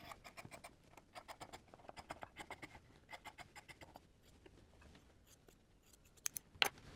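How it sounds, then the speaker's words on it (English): Scissors trimming the seam allowance on a two-piece sleeve, a faint, close series of short crisp snips in quick clusters, with a couple of sharper clicks near the end. "We're going to trim that seam allowance down to 1/4 of an inch or 6 millimeters."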